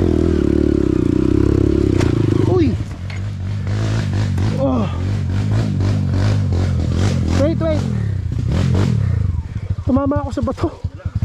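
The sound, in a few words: CRF 150L motorcycle hitting a rock on trail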